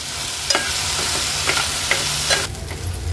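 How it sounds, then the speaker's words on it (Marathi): Rice grains sauté in hot ghee for sweet coconut rice, a continuous close sizzle broken by regular scraping stirs of a spoon against the pan. "तुपावर घातल्यानंतर 1 ते 2 मिनिटांसाठी हे तांदूळ फक्त परतून घेणार आहोत आपण।"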